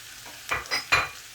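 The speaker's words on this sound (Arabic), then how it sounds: "هفضل اقلب بس كده لغايه يعني ما ريحتها تطلع" Food is stirred and turned in a hot frying pan, giving three short close scrapes over a soft sizzle, with no talking.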